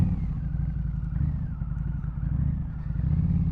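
A 2015 Harley-Davidson Night Rod idles close by with a deep, steady, throbbing rumble that runs the whole time, with no talking over it.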